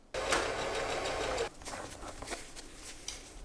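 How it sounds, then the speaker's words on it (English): A sewing machine runs a zigzag stitch over climbing rope: a loud, steady burst of stitching for over a second, then a quieter, uneven stretch of stop-start whirring and clicks. "use the zigzag stitch to close the loop on these two"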